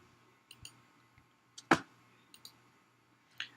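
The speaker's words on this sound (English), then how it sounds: "and click the add button." A single crisp computer mouse click on an add button, quiet and close, among a few fainter clicks and ticks over a low background hum.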